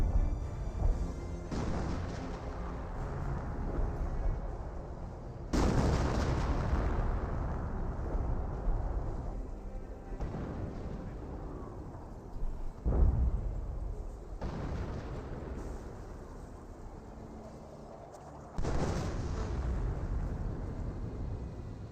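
An artillery barrage in Company of Heroes, with several heavy shell impacts landing one after another over a constant rumble of distant battlefield noise, each blast loud and booming.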